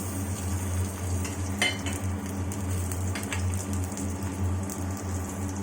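Garlic with dried red chilli, whole cumin, nigella and white sesame frying in hot oil in a home kitchen pan, a steady close sizzle with faint utensil scrapes and no talk.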